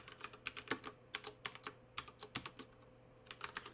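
Close-up typing on a computer keyboard while writing an awk program: quick irregular bursts of key clicks with short pauses between them, no voices.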